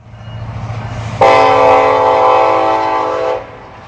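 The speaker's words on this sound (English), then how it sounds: "Got a train." A train horn blares loud and close in one sustained blast of about two seconds, cutting in over a low rumbling rumble of passing rail cars near a schoolyard.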